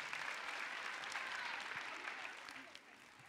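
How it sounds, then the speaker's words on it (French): An audience at a talk event applauds a young athlete, dense, even clapping that stays full then slowly thins toward the end, with faint voices underneath. "On applaudit cette jeune fille, s'il vous plaît."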